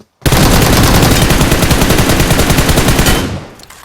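Rapid automatic gunfire in a shooting video game rattles out in one loud, continuous burst of evenly spaced shots lasting about three seconds, then fades to quiet.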